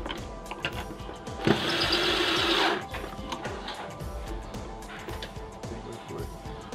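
A powered driver whirs for about a second while tightening the factory-installed screws on an LED wall pack, surrounded by quieter handling clicks and rustles before and after.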